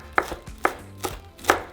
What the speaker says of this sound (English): now we're just going to grab a small bunch of cilantro and just chop it